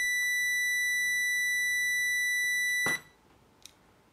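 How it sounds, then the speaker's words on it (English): A digital multimeter's continuity tester sounds a steady high-pitched tone across a washing machine motor's thermal switch for about three seconds, then cuts off with a click, leaving quiet room noise. "the continuity tester of the DMM shows us that this temperature switch is conductive"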